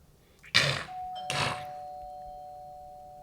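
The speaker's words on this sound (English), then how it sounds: "I didn't even know we had a doorbell." A home doorbell chimes a clear two-tone ding-dong, the second tone ringing out and fading slowly, close by in a quiet room.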